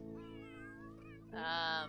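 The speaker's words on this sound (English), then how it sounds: "you see some wild cats in here" Cats in the video game The Sims 3 meow close and clear over a quiet hum, first a long wavering mew, then a louder, brighter meow near the end.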